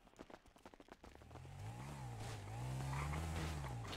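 A video game car's engine rises into a steady, droning hum after a brief burst of clattering noise, holding a loud, sustained tone that wavers slightly in pitch.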